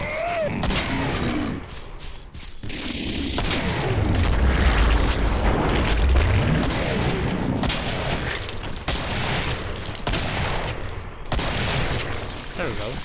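Heavy gunfire in the Killing Floor video game: loud, continuous bursts of big-gun shots and booming blasts roll on without pause, with a voice speaking over the din at times.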